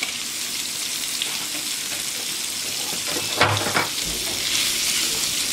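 Polish kielbasa sizzles in a skillet with bacon, giving a steady, close frying hiss with a few louder crackles and scraping stirs partway through.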